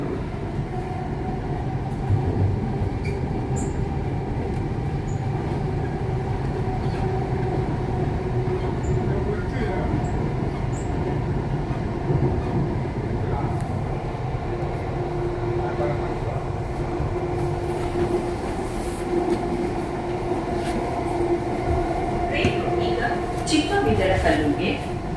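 A Bangalore metro train runs with a steady low rumble and hum for the whole stretch. A recorded station announcement plays over it, and a brief screech of wheels is heard near the end.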